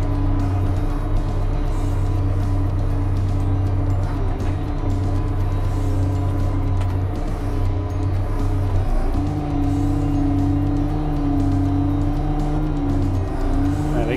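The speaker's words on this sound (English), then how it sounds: "Release the boom lock. And we'll stretch the rear of the machine out." A Cat F2 backhoe loader runs with a steady diesel engine drone while its rear boom extends. The hydraulic pitch shifts partway through, loud and close, with no talking.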